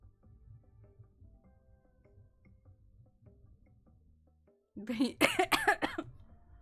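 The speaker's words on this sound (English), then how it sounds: "I got a cough." A short burst of several harsh coughs from a person getting over an illness, close and loud after quiet low room noise.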